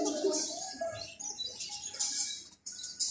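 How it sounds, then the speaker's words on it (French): Birds of an unidentified kind chirp and tweet in a park, with bright overlapping calls and soft cooing over a busy background; the calls rise and fall and briefly drop out near the end. "Je connais pas ce type d'oiseau."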